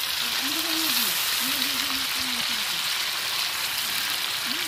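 Chopped tomatoes sizzle in a pan for a pangas fish curry, giving a steady, close frying hiss with a soft voice humming or speaking faintly underneath.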